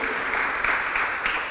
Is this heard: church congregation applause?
yes